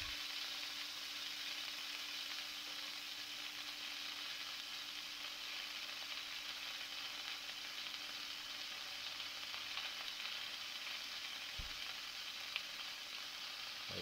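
Chanterelle mushrooms browning in a frying pan, giving a soft, even, unbroken sizzle at low level for a long stretch, with one brief thump near the end.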